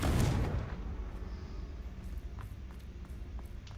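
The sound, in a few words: Confringo fire blast spell in Hogwarts Legacy video game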